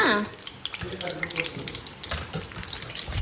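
Tap water running in a home kitchen: a steady splashing stream close by, with a voice faintly in the background.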